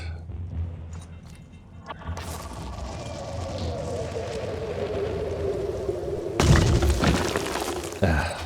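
A Rebuke launcher fires in the Phoenix Point video game: a rising whoosh sweeps across the middle, then a heavy crashing boom and a second impact near the end, loud over a rumbling game soundscape.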